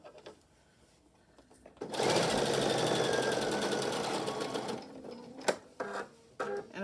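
A sewing machine stitches and back-stitches over a pleat on a fabric mask, its rapid whirring run starting abruptly after a quiet moment and then stopping, followed by a few handling clicks and knocks.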